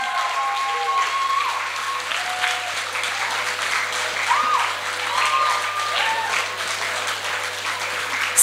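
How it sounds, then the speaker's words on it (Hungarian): Festival audience at a Hungarian student theatre competition applauding steadily, a dense, even patter of many hands heard from the hall, with a faint low hum underneath. "És a nagy tapsot"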